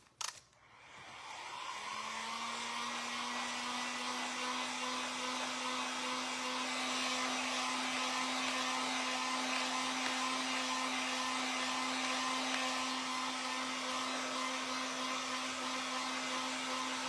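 A hair dryer switches on with a click and runs continuously as a craft pumpkin is dried, producing a close, steady whooshing whine with a sustained tone that holds for the rest of the clip.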